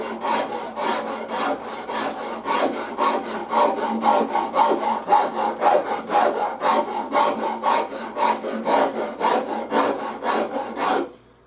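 Rasp strokes on a wooden bass guitar neck being shaped with a Shinto rasp, a steady rhythmic series of about two dozen rough scraping passes, close and loud, with no talking.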